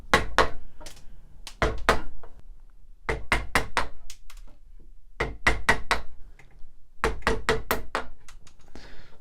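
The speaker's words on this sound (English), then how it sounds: "So what I do is I use a chisel and take it down so it's close to the edge." A mallet strikes a chisel to trim a wood plug flush on furniture being repaired. Close, sharp wooden knocks arrive in quick bursts of three to five blows, with short pauses between the groups.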